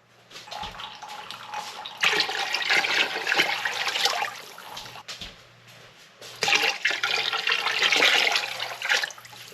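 Water pours and splashes steadily from a jug into vegetable beef soup in two long bursts with a brief pause between, close and fairly loud.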